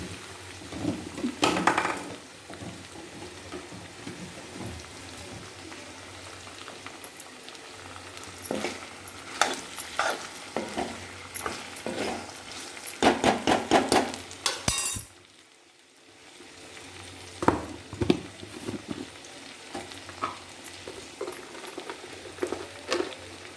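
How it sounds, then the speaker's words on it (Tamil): Vegetables sautéing in a pan for vegetable rice, soft sizzling under scattered clinks and scrapes of a utensil against the pan, with a brief quieter gap midway. "நல்லா எல்லாம் ஒன்று சேர்த்து நல்லா வதக்கிக்கோ. அது வதங்கட்டும்."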